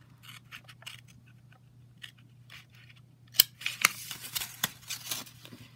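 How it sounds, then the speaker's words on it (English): Scissors make sparse, crisp snips through a piece of thin aluminum can, close and quiet, growing denser and sharper toward the end over a faint steady hum. "I'm going to just stick it on my aluminum can, and then I'm going to go ahead and just cut the piece I need"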